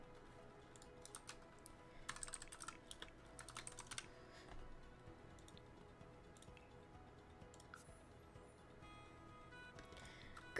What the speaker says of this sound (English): I can use my keyboard